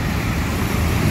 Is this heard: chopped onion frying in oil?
no